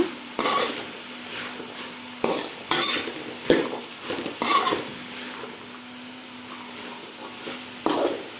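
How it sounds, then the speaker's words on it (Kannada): Cowpeas frying in oil in a pan, with a low steady sizzle under repeated sharp clinks and scrapes of a ladle stirring against the metal, close by and without talk. "ನಂತರ ಅದನ್ನು ಕೂಡ ಹಾಗೆ ಎಣ್ಣೆಯಲ್ಲಿ ಸ್ವಲ್ಪ ಹಾಗೆ ಫ್ರೈ ಮಾಡ್ಕೊಳ್ಳೋಣ"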